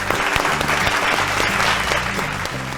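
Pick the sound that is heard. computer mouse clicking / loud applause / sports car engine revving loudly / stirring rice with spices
loud applause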